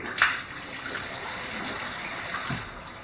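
Water runs steadily from an upstairs faucet with corrosion-restricted flow, now flowing at good pressure after the aerator parts are removed, a continuous broadband rush with a brief spatter near the start.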